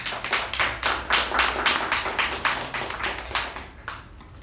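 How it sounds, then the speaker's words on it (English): A small group at a club meeting claps steadily for a few seconds, a fairly sparse, rhythmic patter of hands, close by and with no talking. "A big round of applause for her."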